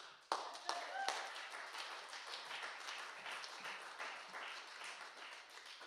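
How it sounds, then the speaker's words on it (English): Audience applause at a live folk concert of work songs, a sharp onset of many hands clapping that settles into an even, moderately distant patter lasting several seconds. "Give yourselves a nice round of applause."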